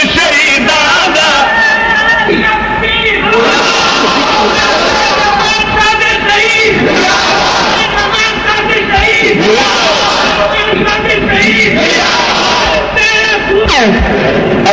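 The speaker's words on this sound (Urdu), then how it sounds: "زندہ باد دے نعرے لگواؤ" A large crowd at a Sipah-e-Sahaba rally chants Zindabad slogans in loud, repeated bellowed bursts, massed voices rising and falling over a continuous roar of crowd noise for about fifteen seconds.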